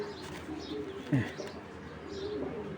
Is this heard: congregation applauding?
no